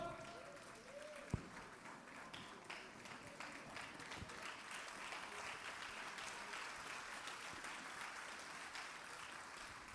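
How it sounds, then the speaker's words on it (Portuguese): A church congregation applauds at the close of a sermon, a steady, moderately distant wash of clapping that holds throughout. "pode se assentar aplaudindo ao Senhor"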